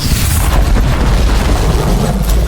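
A sea of explosions going off at once, a loud, dense, continuous roar of booms and rumbling blasts that fills the whole moment.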